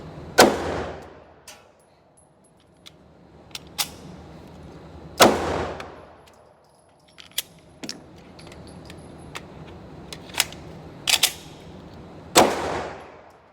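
Pistol shots from a freshly built P80 Glock-style handgun firing hollow point rounds: several sharp, loud reports spaced irregularly, some in quick pairs, with metallic clicks and handling noise between.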